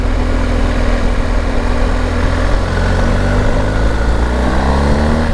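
A BMW R 1250 GS motorcycle (2022, low seat) runs loud and steady while ridden through corners, its low engine drone and shifting pitch continuous throughout with no talk.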